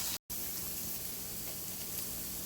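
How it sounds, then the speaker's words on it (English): Red onions and garlic cooking down in a pan for a keto sloppy joe mix give a soft, even sizzle that runs unbroken apart from one very short drop at the start. "I'm going to go ahead and add the red onions and the garlic and cook that down"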